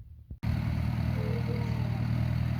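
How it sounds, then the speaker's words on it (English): A small garden tractor's engine running steadily after a brief clunk at the start, a continuous close, loud mid-pitched drone cultivating garden soil. "I always love when the tractor can do work that we would otherwise have to do by hand."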